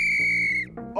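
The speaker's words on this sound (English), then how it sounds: "he pulled out a referee's whistle and said" A referee's whistle blown in one long, loud, steady shrill blast that drops off and wavers at the end, with nothing else heard around it.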